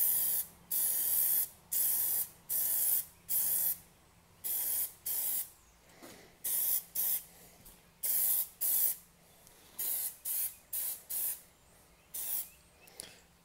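Plasti Dip rubber coating sprayed from an aerosol can onto car emblems in repeated short hissing bursts of about half a second each, close and fairly loud, with brief pauses between passes and no talk.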